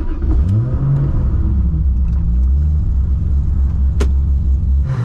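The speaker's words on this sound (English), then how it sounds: "A Supra burnout involves hitting the rev limiter a minimum of 6 times." Rat rod Toyota Supra drag car doing a burnout, its engine loud and close, roaring steadily and bouncing off the rev limiter repeatedly in a continuous harsh drone.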